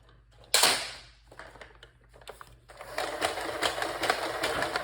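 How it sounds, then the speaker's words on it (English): A custom Obrez-style Nerf pistol built from a Buzzbee blaster fires one sharp, close pop, followed by a quieter mechanical rattle and a steady whirring hum. "my custom Obrez pistol out of a Busby blaster"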